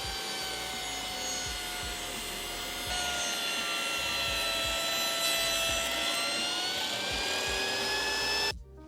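A table saw with its blade tilted to 32.5 degrees cuts acute miters in a common board, a loud, steady whining hum close by that stops abruptly at the end.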